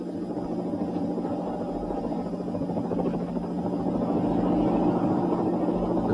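Helicopter flying over snow-laden high-voltage power cables during the 1963 Big Freeze, towing a long rope loop to knock ice off; a steady, continuous rotor and engine drone holds throughout with no talk.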